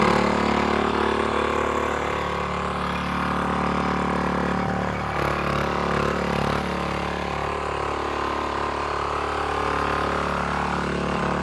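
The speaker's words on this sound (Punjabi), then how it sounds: "ਚੱਲਦਾ ਇੰਜਣ ਬੰਦ ਨਹੀਂ ਹੋ ਸਕਦਾ" A diesel engine runs steadily, its continuous mechanical drone holding an even pace with slight rises and falls, close by and without any talk.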